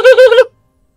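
A voice imitates a turkey gobble in a story reading: a short, loud, rapid warbling burst of about three pulses, then silence.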